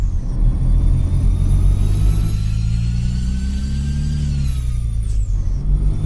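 A heavy truck engine in Euro Truck Simulator 2 rumbles steadily and loudly, with a deep low drone and a slowly rising then falling whine as it revs, with no talk.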